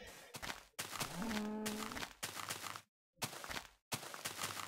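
A single low cow moo in a video game rises and holds for about a second amid bursts of broadband noise and brief silent gaps.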